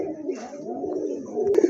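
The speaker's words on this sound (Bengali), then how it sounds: "মাশাল্লাহ দেখেন বিগ সাইজের এক জোড়া রেসার কবুতর, কোয়ালিটি ফুল।" Big racer pigeons coo softly in a short, low, murmuring burst, close and fairly faint, with no voices present.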